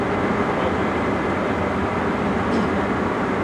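Steady loud roar from the cab of an HST high speed train running at 125 mph on the approach to Newark, a dense continuous rumble and rush of track and air noise with no pauses.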